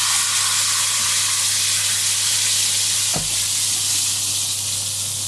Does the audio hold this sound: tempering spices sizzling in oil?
yes